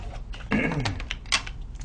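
Cardstock or a paper tag being crumpled by hand to wrinkle it, a close, crackly rustle in a couple of bursts with brief sharper crinkles.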